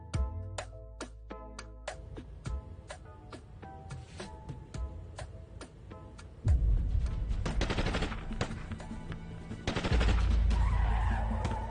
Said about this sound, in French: Madame, ça tire!